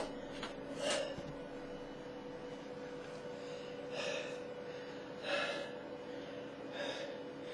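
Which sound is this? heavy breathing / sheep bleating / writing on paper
heavy breathing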